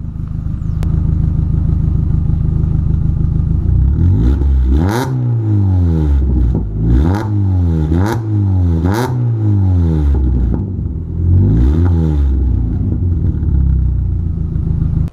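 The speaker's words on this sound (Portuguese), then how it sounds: "Vou dar uma acelerada aqui na rua aqui para vocês ver como que tá o barulho lá de fora." A Volkswagen Polo with a straight-pipe exhaust idling loudly with a raw, crackling sound, then revved hard several times in quick bursts, each climbing and falling back to idle.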